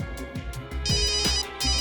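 A telephone ringing as a call is placed in a CID crime drama episode, a loud electronic ringtone pulsing in quick repeated bursts close to the listener.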